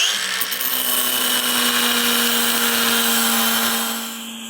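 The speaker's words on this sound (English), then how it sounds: "So I'm going to cut out a section of these little stubs." Steady, loud power-tool whine of a cutter slicing through small metal stubs on a 1968 custom VW, held continuously at close range and easing off at the end.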